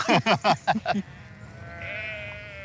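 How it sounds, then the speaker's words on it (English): Sheep on a Tudor-era monastery farm in an English village bleat in a quick run of about five calls, close and clear, before tailing off into a faint, steady tonal drone. "Tenant farmers faced the daunting task of herding their sheep from the fields back to their farms."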